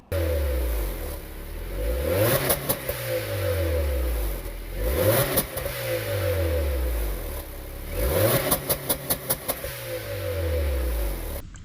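A turbocharged Honda Civic with an R18 engine and a straight-through exhaust revs hard three times, each rise falling back to idle, with a rapid fluttering crackle after the last rev.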